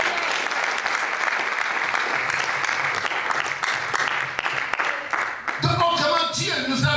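A church congregation applauds in sustained, dense clapping for several seconds, then the applause gives way to a voice speaking near the end.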